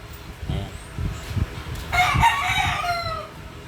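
A rooster crows loudly and clearly, a long drawn-out call rising over low thumping background noise.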